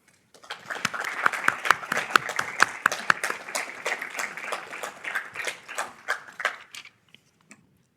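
An audience applauds to welcome a speaker at a university lecture, a crowd of sharp claps building quickly and sustaining for several seconds before thinning out and stopping.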